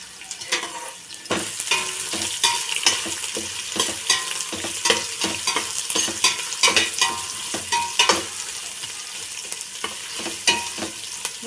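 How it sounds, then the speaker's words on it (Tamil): Onions sautéing in a pan for Ambur mutton biryani, a steady close sizzle with frequent scraping stirs throughout and no talking. "இப்போ இதில் நாம் வெங்காயத்தை சேர்த்துக்கலாம். வெங்காயம் நல்லா வதங்கட்டோம்னா"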